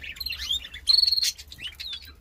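Canary chicks about a week old, raised in an outdoor aviary, chirp in thin high tweets and short rising calls, close and fairly soft, with a brief louder burst of repeated chirps midway and a low hum beneath.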